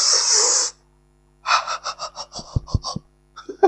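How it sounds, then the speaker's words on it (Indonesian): A person takes a deep breath in and lets it out during a doctor's lung check. The first breath is a loud, close, airy rush. After a pause comes a run of shorter, softer breathy pulses, with a few low thumps near the end. "Tarik nafas dalam, kemudian lepas."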